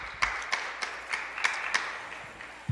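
Scattered applause from an audience at a Montreal city council meeting, a handful of sparse, uneven claps over a quiet room hum.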